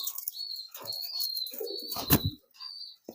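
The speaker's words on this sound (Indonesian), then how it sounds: "Di sini juga ada merpati balap saya." Close pigeon sounds: soft coos and chirps with a persistent high tone, a burst of flapping or rustling midway, then a short pause.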